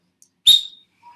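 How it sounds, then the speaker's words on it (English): One loud, sharp whistle from a person rings out abruptly and trails off within a fraction of a second in a quiet classroom. "Anyone have a loud whistle?"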